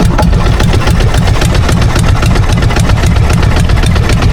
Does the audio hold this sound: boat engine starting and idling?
yes